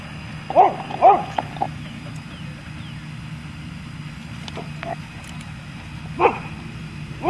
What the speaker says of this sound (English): big dog growling